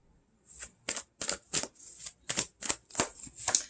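Tarot cards being shuffled by hand: about nine quick, evenly spaced papery riffling bursts, close and fairly soft, with no voice over them.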